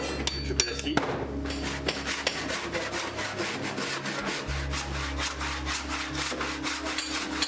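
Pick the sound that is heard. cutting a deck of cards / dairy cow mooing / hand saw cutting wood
hand saw cutting wood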